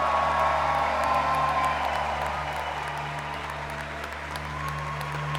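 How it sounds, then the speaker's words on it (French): A big crowd in a Paris concert hall applauds and cheers the winner of a chessboxing bout, with sustained clapping and scattered whoops from a loud audience all the way through. "je vous demande de faire beaucoup d'acclamations pour la vainqueur de ce premier match"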